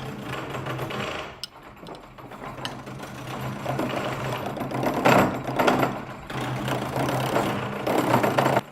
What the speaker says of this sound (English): turn the pommel where the square post at the top of the leg transitions into the round part that's turned on the lathe